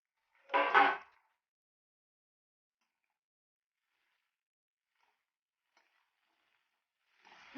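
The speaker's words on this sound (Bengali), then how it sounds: "পুঁই শাকগুলো দিয়ে সবজিগুলোর সঙ্গে ভালো করে নেড়ে চেড়ে মিশিয়ে নেব" Malabar spinach tossed into pan-fried, browned vegetables with salt and turmeric gives a short sizzling stir near the start, then near silence until another brief scrape at the end.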